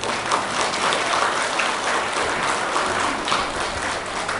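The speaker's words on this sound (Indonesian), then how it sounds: "Mari kita beri sorak-sorai buat Tuhan" A church congregation at a women's interdenominational revival service fills the room with sustained, dense applause and cheering, loud and continuous throughout.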